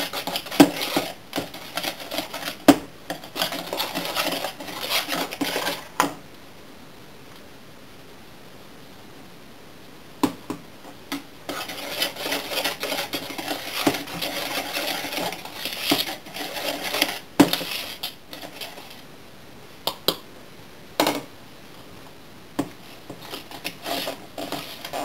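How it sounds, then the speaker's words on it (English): Bakewell tart mixture is whisked in a bowl in quick rhythmic bursts of clattering strokes, broken by a few short pauses, close and fairly loud, with no voices. "I'm just going to add a little bit at a time, so about 2 to 3 tablespoons at a time, and then we're just going to whisk it"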